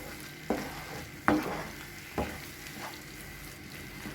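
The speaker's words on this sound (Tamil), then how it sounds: "இந்த கத்திரிக்காய் நல்லா மிக்ஸ் பண்ணியாச்சு." Eggplant chutney sizzles gently in a pan as it is stirred, three or four distinct scraping strokes over a low frying hiss, close and quiet.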